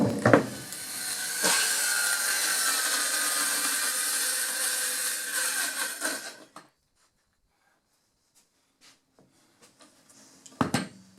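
A table saw cuts a small wooden drawer bottom, a loud, steady whining buzz for about six seconds that then cuts off, followed by near silence with a few faint knocks and a clatter of handling at the end.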